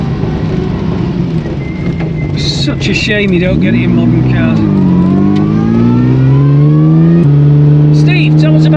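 An Aston Martin engine is revved, its high whine rising and falling in pitch over a deep exhaust rumble, loud and close, while someone talks over it.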